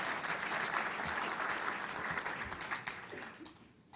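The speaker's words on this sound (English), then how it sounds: "for those in the industry, give yourself an applause." An audience at a general aviation industry review breaks into steady applause that fills the room for a few seconds and then tapers off.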